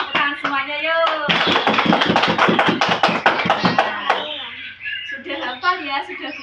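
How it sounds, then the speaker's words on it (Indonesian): A school class claps hands together in a quick, rhythmic run of sharp, close claps, mixed with children's and a teacher's voices, before the clapping stops and talking continues. "Terima kasih tepuk tangan semuanya yuk."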